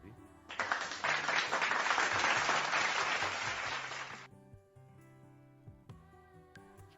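A crowd bursts into loud applause for about four seconds, then it cuts off and a voice talks over quieter background.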